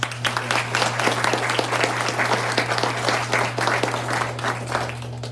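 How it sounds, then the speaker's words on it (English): A room full of people at an Iowa meeting applauds a speaker with steady, sustained clapping over a low constant hum, with no talk. "round of applause for Kevin Nordmeyer"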